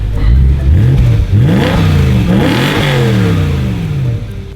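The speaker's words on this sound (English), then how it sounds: "Nora's gonna go ahead and rev it." A BMW E9X M3 with its S65 V8 and stock muffler revs repeatedly, the engine note climbing and falling in several loud, close bursts, fairly subdued in tone.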